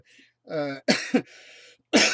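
Several coughs and throat-clearing bursts from one person, close and fairly loud, coming in short irregular clusters with brief pauses between them.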